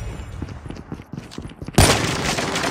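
Call of Duty Mobile gunfire opens with a sudden loud burst of shots near the end. Quieter clattering game sounds come before it.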